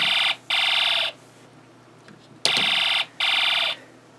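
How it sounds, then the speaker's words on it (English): A Snap Circuits alarm IC sounds a loud, harsh electronic buzzing alarm in repeated bursts of about half a second, with short silent gaps and a click between groups. "we got a different sound effect from our alarm IC because we're connecting it at different points"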